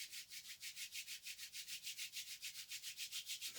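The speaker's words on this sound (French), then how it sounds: "je frotte mes mains" Hands rubbed briskly together to warm them during a tai chi self-massage warm-up, a close, quiet, steady back-and-forth swishing at a fast even rhythm, about five strokes per second.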